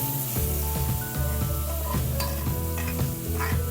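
Gongura dal (sorrel leaves and lentils) is poured into sizzling fried onions and stirred, bringing a loud, close sizzle with scraping and stirring strokes throughout the short stretch.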